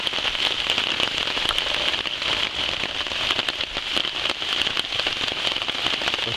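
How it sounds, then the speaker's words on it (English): Heavy overnight rain pours steadily outside, a dense constant hiss with scattered crackling drops striking a surface nearby, with no voices. "it's been raining cats and dogs for about an hour"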